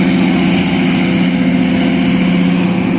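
The small but powerful engine of a tugboat that assists a barge, running close by with a loud, steady, throbbing drone that doesn't let up.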